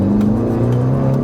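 A 385bhp FK2 Honda Civic Type R accelerates hard under a loud, steady engine drone with rich low harmonics, heard from close by with no talking over it.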